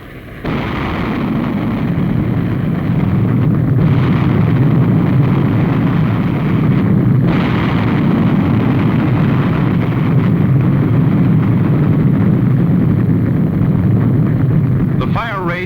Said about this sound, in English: bombs, rockets, and small caliber ammunition continued to explode with increasing violence.